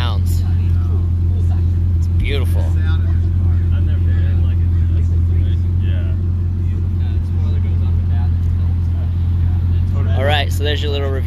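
Bugatti Chiron Sport engine running steadily with a deep, loud, continuous drone and rumble throughout, with brief voices and movement noises heard over it.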